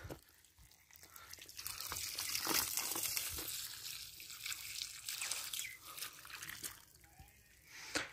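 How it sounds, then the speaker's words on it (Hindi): Irrigation water filling a field bed in a village gives soft, faint trickling and dripping with gentle gurgles, close and irregular, set against a quiet background. "इस वाली क्यारी में पानी भर गया"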